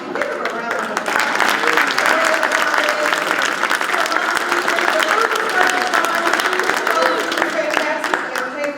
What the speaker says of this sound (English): Hey, I'll give him a round of applause.